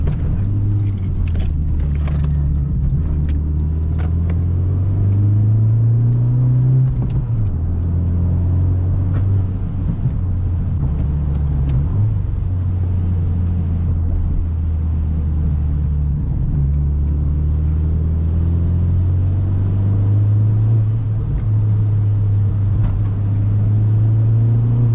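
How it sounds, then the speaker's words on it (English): A BMW M2 sits idling with a modified exhaust, giving a deep, steady rumble that rises and dips slightly with light throttle blips, close and loud with no talking. "Yeah, it's definitely the exhaust"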